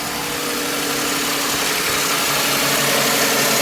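A 2008 Toyota Sienna engine idles with its accessory belt spinning over a newly installed alternator, giving a steady, close, even hum with faint whine and no pauses or voices.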